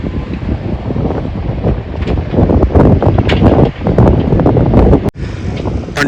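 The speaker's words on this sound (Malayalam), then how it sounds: "തിരകളിങ്ങുള്ളിലേക്ക് കായലിലേക്ക് അടിച്ചു കയറുന്നത് കാണാം." Sea waves surge through a cut sandbar into the backwater at Muthalappozhi, Perumathura, a loud, steady roar of breaking surf mixed with heavy wind buffeting the microphone, with no voices.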